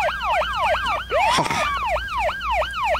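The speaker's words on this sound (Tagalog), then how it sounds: "Lugan dagiti pulis." A police car siren wails loud and close in a fast, repeating up-and-down sweep over three seconds, with a brief burst of mixed noise near the middle.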